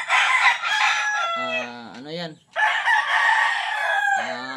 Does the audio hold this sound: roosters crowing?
yes